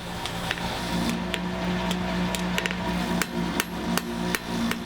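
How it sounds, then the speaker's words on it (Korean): A smith hammering hot metal at a forge: a run of sharp, ringing hammer strikes in an uneven, brisk rhythm, close and clear over a low steady roar of the fire. "망치 소리도 이제는 제법 가볍고 경쾌하게 들립니다."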